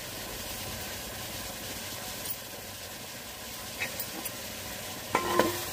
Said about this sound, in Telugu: వేగడానికి టైం పడుతుందండి, ఎందుకంటే మట్టి దాక కదా, బాగా హీట్ అవ్వాలి దగ్గరికి వేగటానికి, ఎర్రగా వేగటానికి.